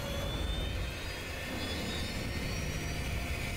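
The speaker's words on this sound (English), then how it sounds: "Damn, that's a sick ass plane." A plane in the Sniper Elite 4 video game roars overhead as a dense, steady whooshing drone of jet engine noise, filling the scene evenly throughout with no speech.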